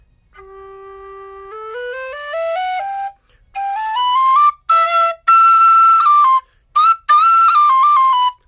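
A Dixon alto G tin whistle, a quiet whistle, plays a slow rising scale of held notes, then a short tune of quick notes broken by brief pauses.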